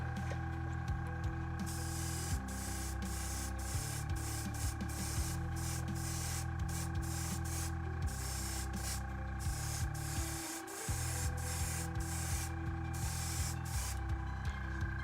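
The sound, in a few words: spraying base coat paint onto Tau battle suit miniatures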